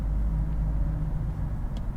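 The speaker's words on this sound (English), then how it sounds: "There's a massive truck coming in here." A massive truck passes close to a Tesla Model 3, a steady heavy low rumble of engine and road noise filling the whole stretch without any talk.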